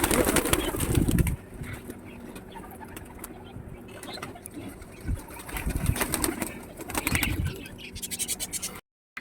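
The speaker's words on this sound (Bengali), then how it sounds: "দেখো এবার আমি পায়রাগুলোকে বাইরে ছেড়ে দেব" Pigeons released from their coop flap their wings in noisy bursts and scramble about, with soft scraping and cooing between the flurries of wingbeats.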